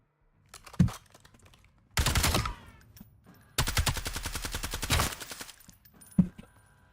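Heavy automatic gunfire in Call of Duty: Black Ops 7 with strong recoil, coming as two loud sustained bursts of rapid shots between a few isolated single cracks, close and dominant with no talk.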